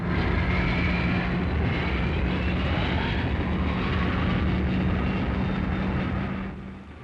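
RAF jet aircraft flying formation aerobatics at a 1960s air display, a loud sustained engine roar with shifting whine, steady throughout before easing slightly at the end, no speech.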